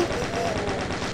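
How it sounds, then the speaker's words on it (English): A chain gun fires in the video game Doom, a rapid, continuous burst of evenly spaced shots rattling at a steady rhythm, loud and close. "Eat my chain gun."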